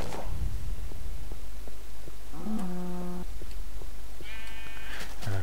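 Two clear sheep bleats from Minecraft played with the Tekkit mod, one mid-pitched and one higher, spaced a couple of seconds apart over a steady low game hum, with no talking.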